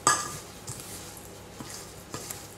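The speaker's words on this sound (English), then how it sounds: "Make sure that you're mixing your spices in well" A spoon clinks and scrapes in a bowl as a sesame and chia seed cracker mixture is stirred together with spices, in a few sharp taps and soft scrapes at close range, with no voices.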